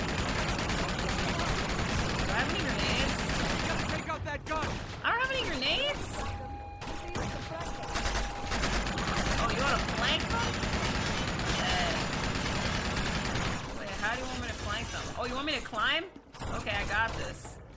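Rapid, sustained gunfire from an enemy gun emplacement in Uncharted 2: Among Thieves, dense bursts of shots pouring in close and loud while a player talks excitedly over the fight.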